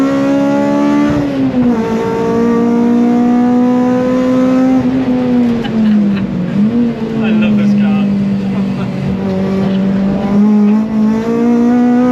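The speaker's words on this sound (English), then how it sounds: "That bright green Fiesta you can see flying past there, it is Dean's ST180 powered Mark IV" A bright green Mark IV Ford Fiesta race car with an ST180 engine runs on a track during an action day. A loud, close engine drone holds a steady pitch, then dips and rises as the car passes and shifts.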